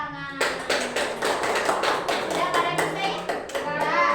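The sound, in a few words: classroom applause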